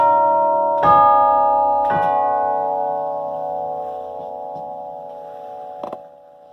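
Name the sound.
pipe organ chimes struck by hammers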